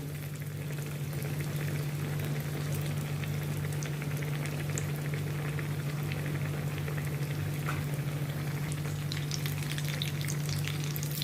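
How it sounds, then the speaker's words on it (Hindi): Corn potato bites deep-fry in hot oil over a medium gas flame, giving a dense, steady sizzle and bubbling that stays loud and even the whole time, with no talking. "इसको मैं ऑयल में डाल के इनको मैं फ्राई कर लेती हूँ गोल्डन ब्राउन होने तक"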